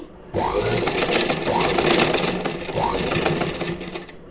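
A sewing machine slowly stitches a hook-and-eye strip in a V shape, whirring in three short, close runs after a brief quiet start.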